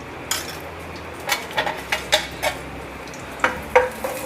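Cumin seeds, about half a spoonful, dropped into melted ghee and butter in a pan for dhaba-style lehsuni palak. A soft sizzle sits under scattered clinks and scrapes of a spoon stirring against the pan.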